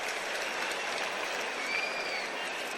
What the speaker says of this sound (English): Crowd reacting to one of the ball kids that had trouble collecting a loose ball.